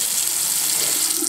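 Hotel bathroom sink tap running filtered water, a steady close hiss of flowing water heard alone.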